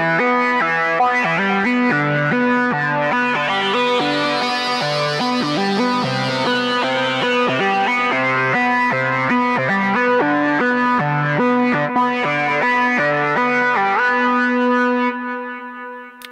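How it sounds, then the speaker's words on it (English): A big synth lead patch from an Arturia SQ80V plays a continuous melodic line with bright, layered harmonics and a steady, sustained loudness, with no voices heard. "today we're going to be designing a lead synth that can be used in synth pop or any other electronical music"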